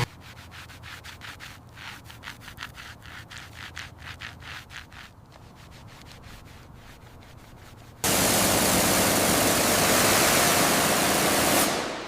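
A rotary polisher works over heavily oxidized paint on an old Rolls-Royce, first as a rhythmic rubbing scrape, then as a loud, steady hiss for the last few seconds.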